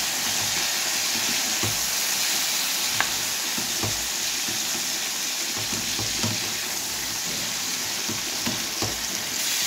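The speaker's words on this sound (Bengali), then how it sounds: "হলুদ লবণ দিয়ে দিয়েছি, এবার একটুখানি ভেজে দেবো।" Turmeric and salt frying in a pan for a Bengali flat bean curry, a steady close sizzle and hiss with occasional soft clicks of stirring, no talking.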